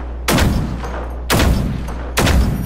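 A bigger gun firing in the video game Generation Zero: three loud, booming shots, about a second apart, each with a rumbling tail over a steady low hum.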